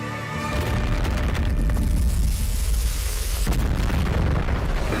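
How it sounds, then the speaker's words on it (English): A big explosion in the anime Dr. Stone, a loud sustained rumbling blast with deep booming low end and crackling debris that stays dense and powerful for the whole five seconds. "it's gotta be a pretty decent sized explosion"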